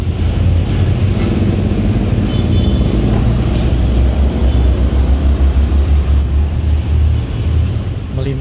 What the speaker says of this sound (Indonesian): Melintas lagi ada Garuda Mas Single Glass Jet Bus 2 Akadeo Amor jurusan Jakarta Purwodadi.